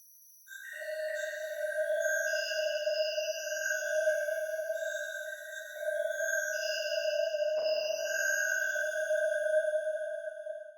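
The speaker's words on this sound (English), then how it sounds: "as soon as you add the reverb behind it, like what we did initially, we instantly have these kind of haunting tones" Haunting synth tones from the Vital synthesizer, drenched in reverb: sustained, eerie layered pitches that hold steadily and shift slowly over time, with a brief noisy swell partway through and no voices.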